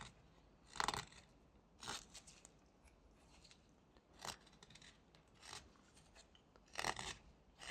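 A whittling knife makes sweeping cuts in a small wooden pig carving: about six or seven brief, close scraping strokes spaced irregularly over quiet background, with no talk.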